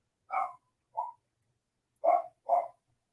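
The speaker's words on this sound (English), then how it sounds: "And a dog saying hello." A dog gives four short, clear barks in two pairs, fairly close, against an otherwise silent background.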